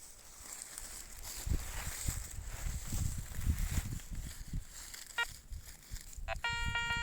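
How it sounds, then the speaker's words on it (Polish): Metal detector beeping at 5.2 s and again, longer and steadier, from about 6.3 s to the end as it passes over a deeper buried target outdoors, with footsteps and rustling earlier and someone talking faintly. "widzisz teraz jaki ładny sygnał jest głębiej?"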